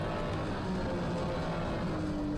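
A continuous roaring race car engine in Gran Turismo 7, loud and close, with a steady droning pitch throughout.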